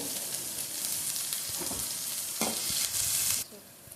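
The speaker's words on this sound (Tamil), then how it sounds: "வெங்காயம் இந்த மாதிரி சவுண்டு வரணும்" Onions with a sprinkle of salt sautéing in a pan for a fish curry, a continuous close sizzle with intermittent scraping stirs that swells louder before dropping off abruptly near the end.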